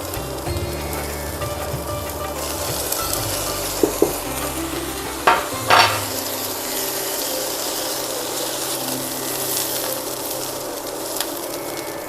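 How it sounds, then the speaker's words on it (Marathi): Ground spice paste goes into a hot pan for chickpea khichdi, a loud continuous sizzle and stir with a few sharp clanks of a spoon against the pan partway through. "आता याच्यामध्ये आपण घालूया हे जे वाटण आपण करून ठेवले ना ते वाटण"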